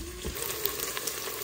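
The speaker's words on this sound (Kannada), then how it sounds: "ಈರುಳ್ಳಿ ಹಾಕ್ಕೊಂಬಿಟ್ಟು ಚೆನ್ನಾಗಿ ಉರ್ಕೊಬೇಕು" Onions frying in a pan until golden brown, a soft steady sizzle with faint stirring scrapes, close and fairly quiet with no voices.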